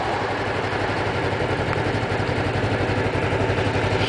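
A motorcycle engine idles steadily at close range, a constant low throbbing rumble with even pulsing and no revving.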